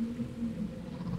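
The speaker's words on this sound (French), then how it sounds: "Une autre baleine lui répond au loin," Whale song in the North Sea, a sustained low moaning call that carries steadily over the sound of waves, with no pauses in the short stretch.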